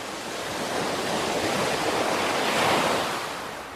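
Surf washing onto the rocky shore of Marblehead Beach beside a restaurant, a steady broad rush that builds and recedes over a few seconds with some wind mixed in, no voices.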